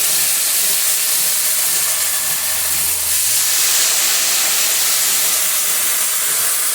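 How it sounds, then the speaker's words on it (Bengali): Spice paste and water sizzling in hot oil with fried cumin for a vegetarian pointed gourd dish, a loud, steady, close hiss that continues unbroken without talk. "মশলার বাটিটা দিয়ে একটু জল দিয়ে দেবো।"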